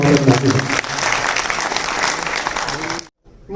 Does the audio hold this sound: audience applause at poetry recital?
yes